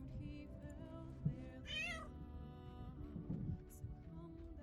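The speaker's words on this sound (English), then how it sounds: "Maybe the cat." A cat meows in the Baldur's Gate 3 video game, a short rising-and-falling call standing out over a busy bed of game music and ambience.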